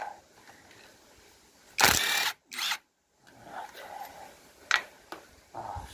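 A ratchet socket wrench works on a Peugeot 404 BA7 four-speed gearbox. Two loud, harsh bursts of ratcheting and clattering metal sound close by, separated by a short gap. Quieter workshop noise and a couple of sharper knocks come before and after.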